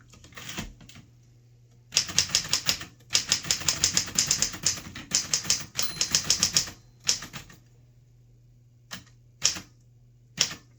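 Close, loud bursts of rapid keystrokes from a 1938 Corona Sterling manual typewriter, with pauses between runs and a few isolated strikes near the end, a faint low hum under it all and no talk.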